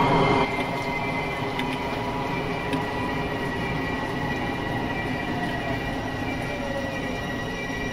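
An LIRR M7 electric train in Train Sim Classic runs on the Long Island Rail Road near Hollis, a steady rumble of wheels on rails with faint high squealing and clicks, no voices.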